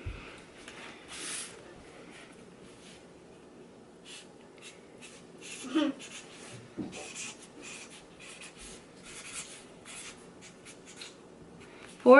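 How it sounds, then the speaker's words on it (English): Pencil scratching across a birthday card in short strokes and scribbles, fairly quiet and close, with a few louder scrapes and rustles of the card being moved. "Maybe I should write this in pencil first."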